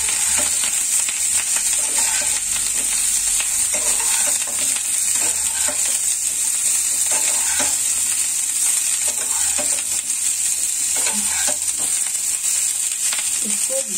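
Spinach and cauliflower sabzi with turmeric frying in a pan over medium heat, a steady loud sizzle with occasional stirring scrapes throughout.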